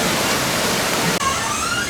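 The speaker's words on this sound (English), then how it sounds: "On the back side, you'll find some waterfalls" Steady broadband rush of an indoor waterfall inside a large store, continuous and fairly loud, with a brief dip partway through and no talking.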